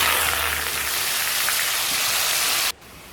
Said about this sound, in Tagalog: Ang uunahin natin i-prito dito yung patatas.